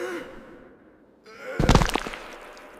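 A sharp gasping intake of breath followed by a heavier, strained burst of breathing, close and alone.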